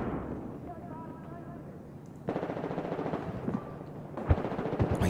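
Automatic weapon fire during a Battlefield 4 multiplayer match begins partway through as a fast, steady rattle of shots. It plays over a rumbling battlefield background, with a few heavier impacts near the end.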